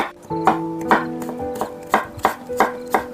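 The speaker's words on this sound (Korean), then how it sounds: "이것도 채를 썰어야 채를 썰어야, 썰어야 되겠죠" Kitchen knife chopping vegetables into thin julienne strips for Korean pancakes, a steady series of sharp, close cuts on a board, alone without talk.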